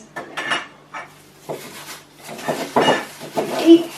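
A pan is handled and set down before oil is heated for a steak and kidney pie, giving several close, separate clanks and scrapes of metal cookware in a quiet kitchen.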